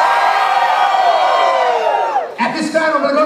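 Wedding guests at a country club reception scream and cheer together in a loud, sustained crowd roar, with whoops and shouts rising and falling before a brief dip and a fresh burst of yelling.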